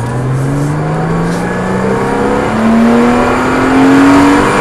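A race car accelerates hard out of a corner on a track, its engine note climbing steadily and growing louder over a few seconds, with a second engine droning faintly alongside.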